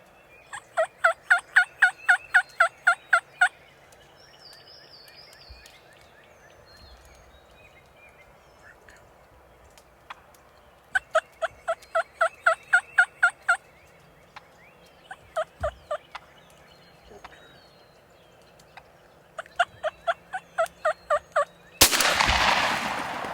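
Wild turkey gobbler gobbling outdoors, several loud rattling gobble bursts repeated at intervals, each a rapid train of notes, with a faint bird chirp between and a sharp loud bang near the end.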